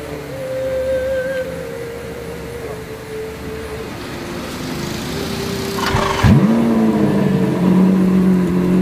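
A large 5.7-litre jeep-type truck engine drones steadily and close while driving, then surges with a louder rev near the end and holds a higher, stronger pitch.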